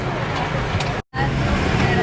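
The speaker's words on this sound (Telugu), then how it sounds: "ఇప్పుడు ప్రజెంట్ మనం బస్సులో ఉన్నాం" Steady rumble of a bus climbing a mountain ghat road toward Eravikulam National Park, heard from inside the cabin as continuous road and engine noise, briefly cut to silence midway before resuming.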